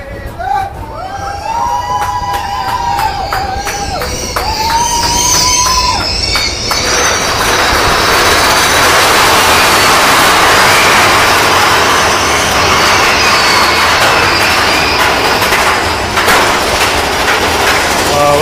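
Big Thunder Mountain roller coaster train riding at a theme park: the first seconds hold voices and a crowd, then a loud, broad rushing roar of the moving train and wind takes over and runs steadily to the end.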